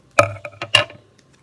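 A few crisp snips in quick succession, close by, scissors cutting through stiff plastic packaging of a SanDisk 256GB Cruzer USB flash drive; short broadband bursts with brief pauses between.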